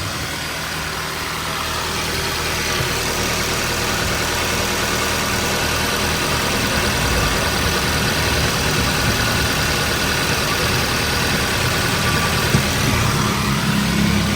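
A Toyota Avanza or Daihatsu Xenia car engine idles smoothly and steadily for the whole stretch, a loud, close, even hum with no talking over it.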